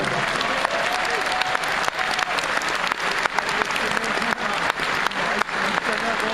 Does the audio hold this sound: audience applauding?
yes